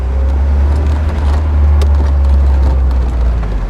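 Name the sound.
1991 Alfa Romeo Spider engine idling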